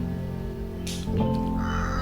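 A crow caws in the mobile video game Undawn, one brief harsh call partway through, over a steady droning game soundtrack.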